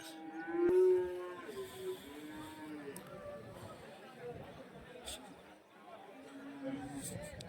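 Cattle at a rural cow market for buffalo, HF and Jersey cows let out low moos under steady crowd chatter, with one loud close bellow near the start and fainter calls later.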